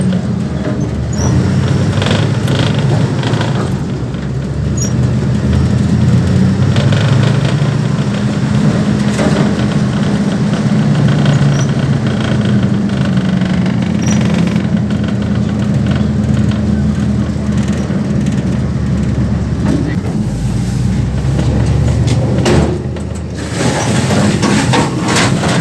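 A Bombardier snow vehicle's engine idles to warm up in deep snow, a loud, continuous close-up rumble that holds steady with slight surges throughout.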